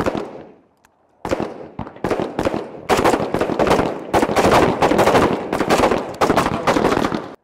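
Carbine gunshots at an outdoor shooting practice, a rapid volley of loud sharp cracks after a brief pause, firing in quick irregular succession.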